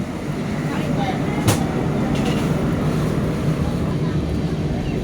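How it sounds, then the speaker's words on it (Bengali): A passenger train pulls out of Bhabua Road station with a steady rumbling roar of wheels and carriage noise heard from on board, continuous and fairly loud, with one brief sharp clank partway through. "ট্রেন ছেড়ে দিল ভাবুয়া রোড।"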